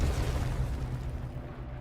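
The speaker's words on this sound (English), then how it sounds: "Three, 2, 1, explosion!" A heavy explosion in the action video game Control, a dense low-frequency roar that fills the whole moment and slowly thins out, loud and sustained without any talk over it.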